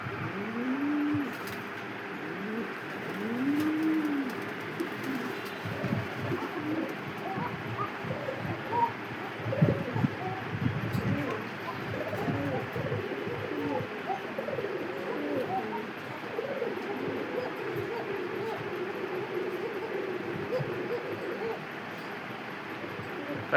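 Pigeons in a fancy pigeon loft give a few low, rolling coos near the start, followed by a steady murmur of birds with occasional faint voices in the background.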